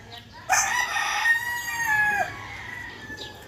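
A rooster crows loudly and close by, one long drawn-out call over faint background noise, followed by a softer cluck.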